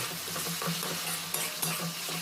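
Pomfret curry masala with tomato being stirred in a pan, a steady sizzle of frying under repeated spoon scrapes and a couple of sharp metallic clinks, close and continuous with no talking.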